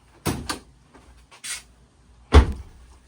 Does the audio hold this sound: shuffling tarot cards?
no